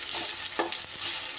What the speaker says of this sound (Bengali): এবার পেঁয়াজটাকে কিন্তু বেশ সুন্দর একদম লাল লাল করে ভেজে নিতে হবে